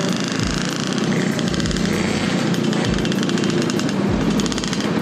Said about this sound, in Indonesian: ini suara mesinnya sih kayaknya seger banget ya.